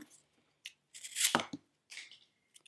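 A Schrade SCH502 knife slices through thick material reinforced with tape, giving a few short, crisp tearing cuts close up, with brief pauses between strokes.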